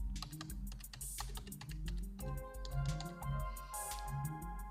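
Keys tapped on a computer keyboard while a password is entered, a quick irregular run of light clicks over a steady musical bed, with no talking.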